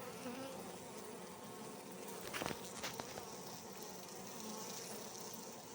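Dense, steady buzzing of many honey bees swarming close around an open hive during an inspection, a continuous insect drone with a few brief sharper ticks midway and no talking.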